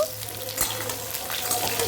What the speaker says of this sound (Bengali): বেগুন পটলটা একটু ভাজা ভাজা করে নিয়ে একে একে সমস্ত সবজিগুলো দিয়ে ভালো করে ভেজে নিতে হবে